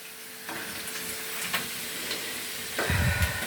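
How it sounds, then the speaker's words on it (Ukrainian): Potatoes frying in fat in a pan for a stewed chicken and potato dish, a steady close sizzle and crackle that swells louder near the end. "І зараз обсмажимо ще слідуючу партію"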